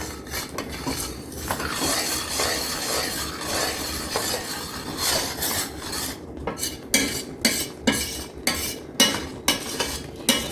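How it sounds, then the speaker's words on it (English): A spoon stirs and squishes blueberry jam in a pan, giving continuous close scraping and wet squelching, then sharper rhythmic metal-on-pan knocks toward the end, with no voices. "You just kind of squish them with the back of your spoon."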